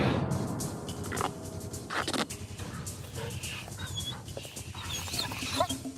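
Dogs clamping onto a digital bite-force meter during a measurement test, with close growls, whimpers and panting sounds mixed among clattering handling noises and a busy, continuous background.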